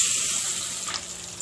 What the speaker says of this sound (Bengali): এভাবে হলুদ আর মরিচ সহ ডিমগুলো ভেজে নিলে ডিমের কালারটা একটু সুন্দর হয়, সে কারণে আমি এরকম ভাবে ভেজে নিচ্ছি।